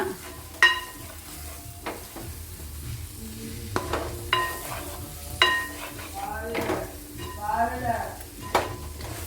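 Chicken curry stirred with a spoon after ground black pepper goes in: intermittent scraping and clinking of utensil on pot, a few sharp knocks, light sizzling underneath.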